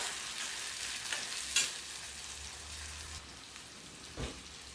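Tomatoes cooking with onion in a pan, a soft steady sizzle like light rain, with occasional stirring clinks and scrapes, fairly quiet and close.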